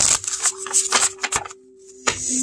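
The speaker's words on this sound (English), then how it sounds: "I love how it shuffles." A matte-cardstock Urban Crow Oracle deck from Hay House is shuffled by hand, giving a quick run of crisp riffling bursts up close, then a short pause and one more flurry.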